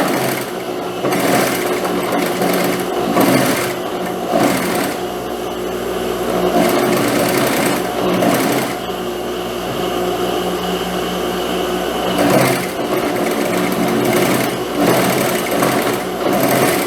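A sewing machine runs in close, loud bursts as it stitches a seam along the edge of dress fabric for a long wrap dress with lining, pausing briefly between several sustained runs.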